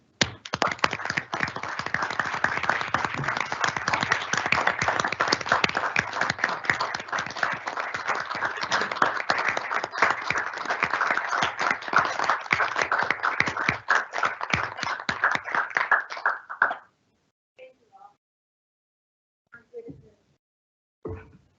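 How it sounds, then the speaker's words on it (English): Board meeting attendees at Joliet Junior College applaud a retiring presidential secretary, a long, dense run of clapping that cuts off sharply, followed by a few faint scattered sounds. "she deserves a round of applause"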